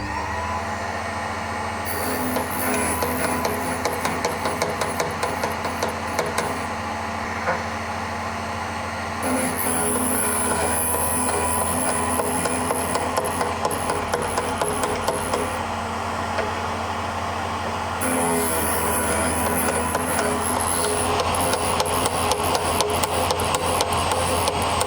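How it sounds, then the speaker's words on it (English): A steady grinding wheel on a Motom BSM 13 DUO drill sharpener hums and rasps continuously, with repeated bursts of brighter, higher grinding as a drill bit is pressed against it, close and loud. "you go back and forth until the grinding wheel sparked out on the drill bit"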